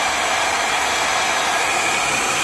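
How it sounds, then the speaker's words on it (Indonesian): A handheld hair dryer runs on its hot setting to heat a camera's LCD screen, blowing a steady, loud, continuous hiss of air close by with no pauses or voices. "Nah ini pemanasnya kita biasanya pakai hair dryer seperti ini guys."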